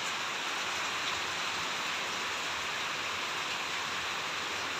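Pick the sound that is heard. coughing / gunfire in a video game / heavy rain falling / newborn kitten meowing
heavy rain falling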